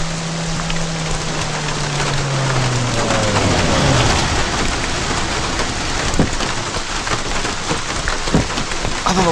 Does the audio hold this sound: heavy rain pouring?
yes